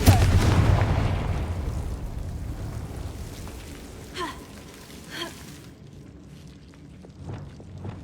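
Confringo blasting spell cast in Hogwarts Legacy, a loud booming burst up front that rumbles and decays over several seconds, followed by a couple of fainter pops and whooshes as the sound dies away.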